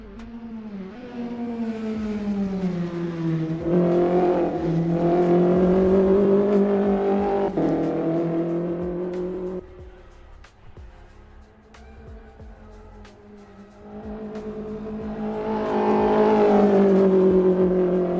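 Race cars, a Praga R1 and Ginetta GT5 pack in a multiclass race at VIR, cross the finish line with a loud, swelling engine roar that fades, dips, then builds again as another car approaches.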